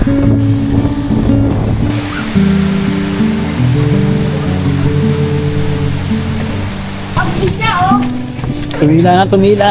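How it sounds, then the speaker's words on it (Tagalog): Heavy typhoon rain pours steadily during a bike ride on a Maragondon, Cavite loop road, a constant loud hiss under droning tonal sounds, with voices rising briefly near the end. "Ang lakas ng ulan."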